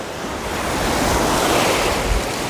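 Sea waves breaking steadily on the shore at Anapa on the Black Sea, a broad continuous surf roar with wind buffeting the microphone, close and loud with no voices.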